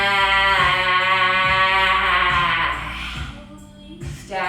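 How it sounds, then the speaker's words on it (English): A yoga lion's breath ends in a long, forceful voiced exhale, a loud open 'ahh' that fades after a few seconds. Soft rhythmic background music continues beneath it. "Last one, a lion's breath, big inhale. Let it out here."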